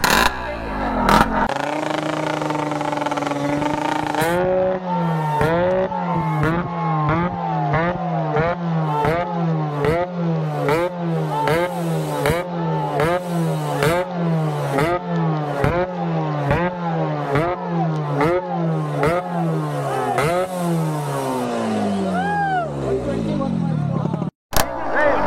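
A modified Yamaha RX motorcycle with an open exhaust pipe revs hard over and over, each throttle blip rising and falling in a fast, regular series of loud, rasping two-stroke sweeps that runs throughout.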